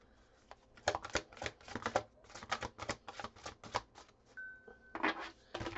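Sticky game cards handled and shuffled on a table, a close run of quick dry flicks and clicks in irregular bursts, with a brief faint tone partway through.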